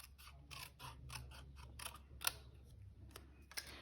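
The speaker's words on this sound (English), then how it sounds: "What I'm going to do is we're going to hand cut this out." Scissors snipping by hand through card for a puffin-themed paper party card, a series of quiet, crisp cuts in an uneven rhythm with small clicks and creaks from the blades, close up and faint, without talk.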